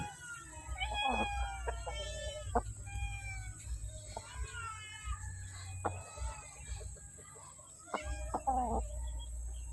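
A Tanaka Tsunami bloodline gamefowl hen clucking in a breeding pen, a series of close, moderately loud clucks and squawks over a low background hum, with other fowl calling faintly around it.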